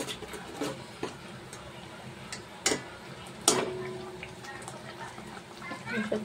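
Chole masala with water added simmers in a pan while being stirred: soft low bubbling close by, broken by a few sharp spoon taps and scrapes, fairly quiet throughout.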